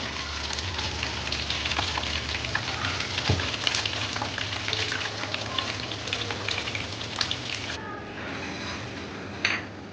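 Chicken wings crackle and sizzle in hot oil for a Korean-style fried wing dish, with a steady dense hiss and scattered pops that continue close up and alone, easing slightly near the end.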